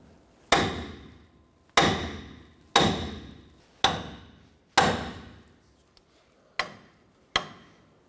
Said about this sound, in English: We're gonna strike the knuckle right here, and this should release our outer tie rod end.